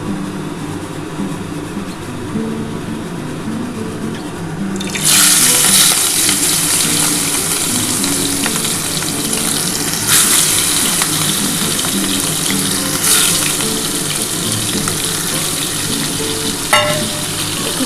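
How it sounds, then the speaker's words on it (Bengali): Prawns dropped into hot oil for a Bengali prawn malai curry, sizzling loudly and steadily from close by, with stirring scrapes and a few sharper bursts of spatter over the continuous fry. "আমার তেলটা কিন্তু গরম হয়ে গেছে এবার আমি আস্তে করে চিংড়ি মাছগুলো দিয়ে দেবো"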